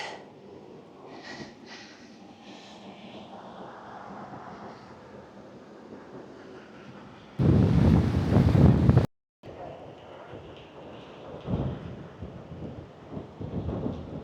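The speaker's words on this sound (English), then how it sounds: "waiting for this rain to pass" Rain patters under gusty wind that buffets the mic at a beach in Ireland, with a loud roaring burst partway through before settling back to softer rain.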